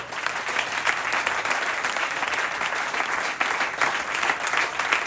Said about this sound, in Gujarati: જોરદાર તાળી પાડો 25 લાખ રૂપિયાની